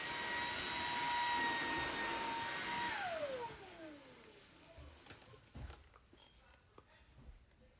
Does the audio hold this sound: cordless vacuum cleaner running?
yes